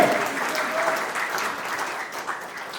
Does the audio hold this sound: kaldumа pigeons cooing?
no